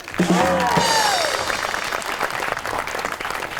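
Studio audience applause welcoming a model and actress onto a comedy talk show, starting over a musical sting and settling into a steady moderate clatter.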